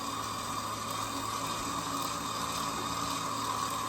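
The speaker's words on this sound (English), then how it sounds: "I'm gonna just place the mixer on a low speed" Stand mixer whirring steadily at low speed while Portuguese Easter bread dough is mixed, a quiet continuous motor hum with faint liquid-like texture and no talking.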